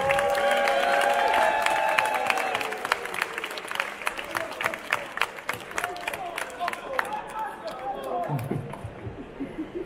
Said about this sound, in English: can you now please just move to the center of the stage one more time for a big round of applause